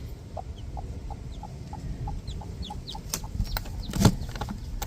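A hen clucks softly in short, evenly spaced calls over a steady low background hum, with a few faint chirps and a brief louder rustle.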